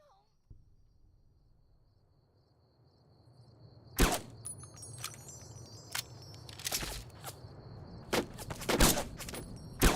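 Enemy SMG fire in Fallout: Tale of Two Wastelands, sharp scattered gunshots and short bursts that start after a quiet stretch with a faint insect-like hum, fairly close and irregular, with voices mixed in.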